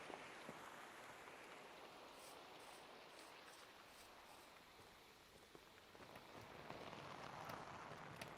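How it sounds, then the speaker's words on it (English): Steady rain patters onto open water, a dense, even hiss of countless drops with scattered brighter splashes, swelling slightly louder near the end, with no voices. "Love the way the rain just like falls on the water, creates these little particles."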